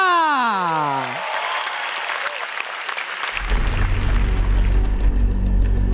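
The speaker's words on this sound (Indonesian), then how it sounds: "Beri tepuk tangan untuk Indra." Audience applause for a stand-up comedian at a roast show, a dense wash of clapping that swells after a tonal sweep at the start and holds loud and close to the end.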